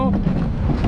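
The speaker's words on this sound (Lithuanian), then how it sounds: "Oi, vėjuota." Strong wind buffeting the microphone in a short, loud, rumbling gust, close and continuous.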